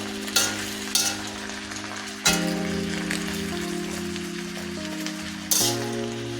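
Masoor dal and vegetables stirred in a new pan, with sharp utensil scrapes and clanks over a low steady sizzle and hum, close and moderate.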